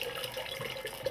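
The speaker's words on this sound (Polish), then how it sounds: "Może doleję troszeczkę wody." A small amount of water is poured, giving a faint, continuous soft splashing trickle with no voices.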